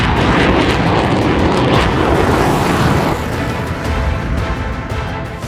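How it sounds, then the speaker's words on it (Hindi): Chinese bomber aircraft flying near Taiwan: a loud, close, continuous jet-engine roar that fills the sound, easing slightly toward the end. "फिर से अपने बमवर्षक विमानों को ताइवान के करीब आसमान में उड़ाकर उसे डराने की कोशिश की"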